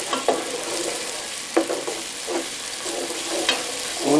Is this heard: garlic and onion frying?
yes